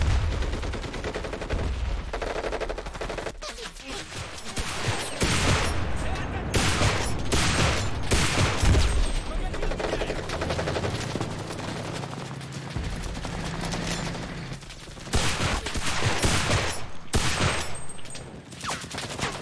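Rapid bursts of UMP and MP5 submachine gun fire in the video game Enlisted, loud and repeated in quick volleys, with brief pauses and a voice talking intermittently.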